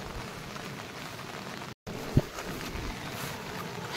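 Heavy rain pouring steadily in a rural village, a dense even hiss of drops on surfaces with one brief sharp knock partway through.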